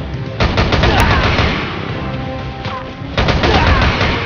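Sustained automatic gunfire in the shooter game Frontline Commando: Rivals, loud and continuous with sharp shot spikes and a heavier blast partway through, ending in another burst of shooting.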